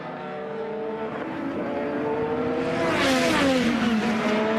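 An IndyCar race car at The Thermal Club qualifying, starting a fast lap on soft tyres: a loud engine note rising through the gears, swelling as it comes nearer and passes.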